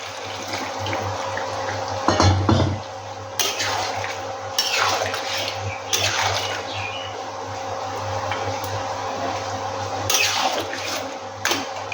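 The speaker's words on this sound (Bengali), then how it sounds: "এবার একটু গরম জল দিয়ে দিচ্ছি" Hot water poured into a pot of cooked-down chicken curry, a steady close splashing pour with a few brief clatters of pots and utensils, loud and without talk.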